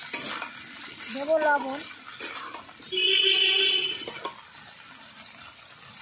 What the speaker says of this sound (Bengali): আলু আর বেগুন সব একসঙ্গে দিয়ে দেবো। ভালো করে আমি কষিয়ে নেব।